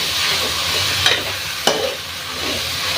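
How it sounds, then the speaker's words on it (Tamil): Peeled garlic and ridge gourd sauté in a little oil, giving a steady sizzle with a couple of sharp stirring scrapes near the middle. No voices are heard. "உரிச்ச பூண்டு, எல்லாத்தையும் போட்டு கொஞ்சம் எண்ணெய் ஊற்றி வதக்கி வைங்க"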